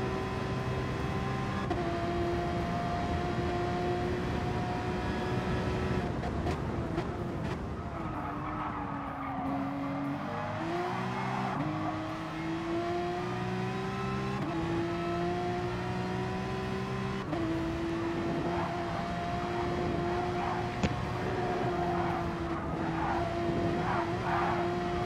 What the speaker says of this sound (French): on va le laisser un peu s'exprimer ce flat 6